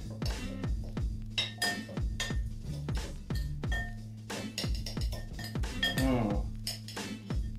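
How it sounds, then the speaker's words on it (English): A utensil clinks and scrapes repeatedly against a bowl while vegetable pizza topping is stirred, giving a rhythmic series of bright clatters and knocks that runs steadily throughout, up close. "give it a good stir"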